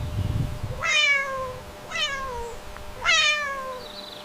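A cat meows three times in succession, each call a drawn-out rising then falling wail, fairly close with a little low rumble at the start.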